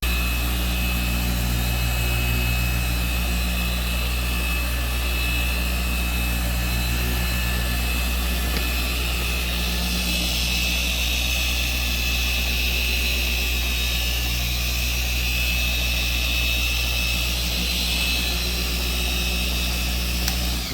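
A machine polisher runs steadily on car paint in a shop, a constant loud motor drone with a high whine, continuous throughout with no pauses.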